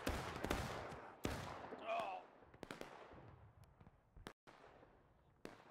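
Musket volley in the video game War of Rights, a scatter of sharp individual gunshots at varying distances, some loud and close, others faint, with a voice speaking among them.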